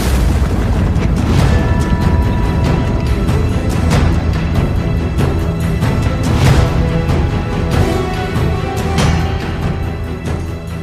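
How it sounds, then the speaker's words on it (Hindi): Iranian missile strikes in Tel Aviv sound as loud, repeated booms over a constant dense roar, with several sharp blasts spaced a few seconds apart. "तेल अवीव में ईरान की एक मिसाइल धमाके से भारी तबाही मची है।"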